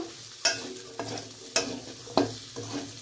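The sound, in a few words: onions frying in a pan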